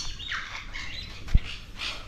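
Birds give short, high chirps and squawks at an aquarium in Goa. The calls come in scattered bursts at moderate distance, with a single low thump partway through.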